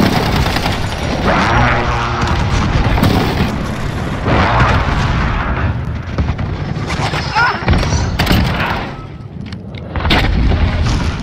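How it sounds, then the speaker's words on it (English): Airstrike explosions in a first-person shooter match, a continuous loud run of heavy booms and rumbling blasts rolling across the whole stretch, dipping only briefly near the end. "Allies receive an airstrike incoming."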